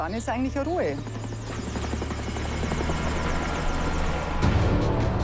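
A helicopter spraying for mosquitoes over shallow water and flood zones around Lake Chiemsee, Bavaria; its steady rotor drone fills the clip, loud and continuous, with a voice speaking over it near the start.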